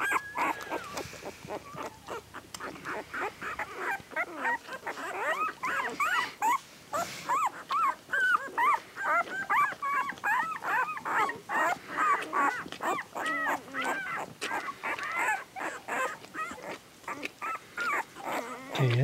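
Eight-day-old puppies, a red merle among the litter, whimper and yelp continuously near at hand in high, wavering squeals and cries.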